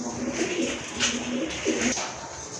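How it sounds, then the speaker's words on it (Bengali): Pet pigeons offered for sale at a Bangladeshi pigeon shop coo in steady, low, throaty phrases, close and clear, repeating in a rolling rhythm over a light background hum. "আরেক জোড়া কবুতর খুবই সুন্দর দেখার মতো কবুতর"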